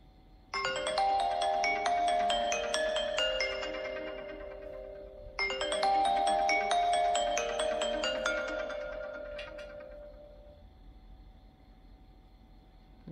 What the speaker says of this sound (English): New iOS 26 ringtone.